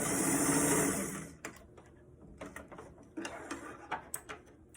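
A sewing machine runs in a fast whirring burst while stitching along the sides of a fabric bucket hat, then stops, followed by scattered light clicks and handling taps.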